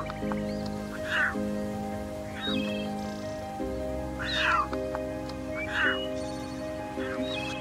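Weak, trembling cries of newborn lion cubs lying beside an adult lioness in dry straw, several short wavering calls rising at intervals over a low steady background.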